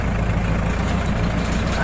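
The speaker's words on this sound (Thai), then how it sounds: "ใช้รถไถสี่คันครับวันนี้" A Kubota L5018sp tractor engine runs steadily in a palm plantation, a continuous low diesel rumble at close range with no break over the short stretch.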